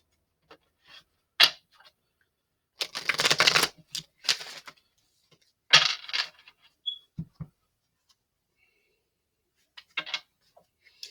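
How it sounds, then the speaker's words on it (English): Playing cards shuffled by hand for a tarot-style reading, several crisp riffling bursts and short flicks separated by silence, close and clear. "So we're going to do a quick shuffle"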